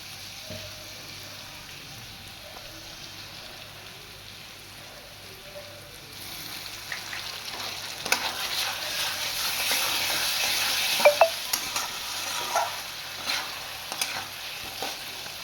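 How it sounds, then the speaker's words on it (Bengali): Fish frying in a pan with ginger garlic paste being stirred in, a steady close sizzle that grows louder and busier midway, with scraping stirs and spitting crackles. "এবার আমি এর মধ্যে আদা রসুনের পেস্টটা দিয়ে দিচ্ছি"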